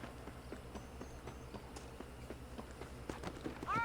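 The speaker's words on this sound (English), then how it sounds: "Monte no seu cavalo." Horse hooves clip-clopping at a steady run in the Western video game Red Dead Redemption, set on a ranch while heading out to herd cattle, with faint jingling tones near the end.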